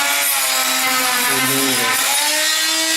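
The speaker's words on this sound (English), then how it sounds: "We use the oscillating tool to tear off the" An oscillating multi-tool tears away old floor covering, giving a steady, loud buzzing whine that wavers slightly in pitch for the whole stretch, with no voices.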